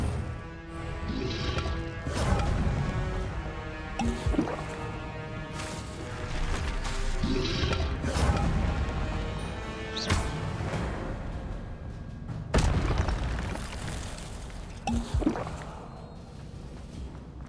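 Hogwarts Legacy gameplay on PS5, with the Incendio fire spell repeatedly cast, giving a series of whooshing bursts and crashing impacts over busy game sound.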